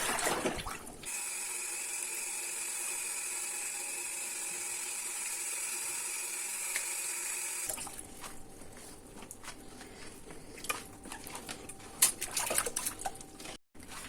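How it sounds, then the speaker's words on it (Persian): Unripe sour grapes get a second rinse in water: a loud steady running stream for several seconds, then quieter sloshing, clinking and splashes as the fruit is stirred and handled. "و حالا مرحله دوم شستشو رو انجام میدم"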